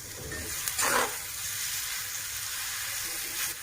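Mashed smoked brinjal with fish, ginger, garlic and green chili frying in a pan, a close, steady sizzle with a brief louder spatter burst early and another stir near the end.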